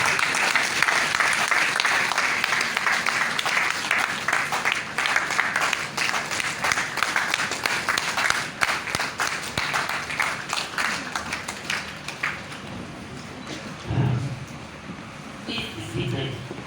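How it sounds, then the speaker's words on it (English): Sustained audience applause at a formal university ceremony in Lagos, dense clapping that runs for many seconds, thins out toward the end and gives way to scattered claps and low murmuring voices. "Please keep clapping until we get there."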